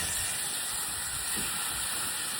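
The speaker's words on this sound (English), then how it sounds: "that's our train pulling, and that is 7812 Erlestoke Manor." Steam locomotive 7812 Erlestoke Manor arriving at Williton station on a heritage line, a steady broadband hiss of escaping steam with low rumbling underneath, continuous and fairly loud throughout.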